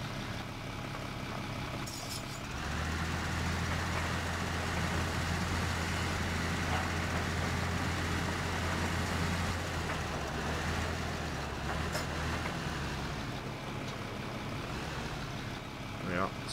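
A tractor engine in the video game Farming Simulator 15 drones and idles at moderate level, a steady low hum that rises for several seconds while someone talks over it.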